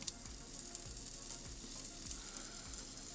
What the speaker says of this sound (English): So now I am going to just fry off this beef to sear it.